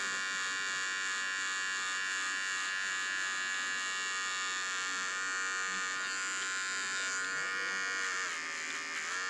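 A small electric hair clipper cuts very short hair, giving a close, steady, high-pitched buzz that runs unbroken throughout with no talking.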